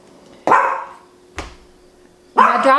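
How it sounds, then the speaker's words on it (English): Dog in a home sewing room barking three times in separate loud, close bursts, with short quiet gaps between them and no voices. "My dog agrees."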